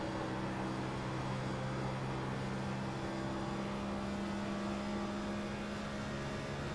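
A NASCAR Next Gen car engine lapping Auto Club Speedway in the iRacing sim, holding a steady loud high drone at constant pitch without a break.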